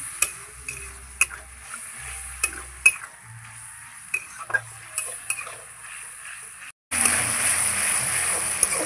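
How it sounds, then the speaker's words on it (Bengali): Spice paste being stir-fried with a splash of water in a pot on an outdoor clay stove, with repeated sharp spatula clinks and scrapes over a soft sizzle, then a sudden louder hiss near the end. "একটু জল দিয়ে মশলাটাকে কষবো।"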